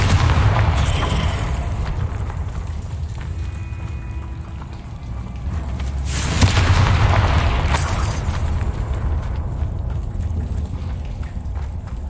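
A Confringo explosive spell in Hogwarts Legacy, with a deep boom around the middle and another burst soon after, set against a rumbling, rain-like ambient wash.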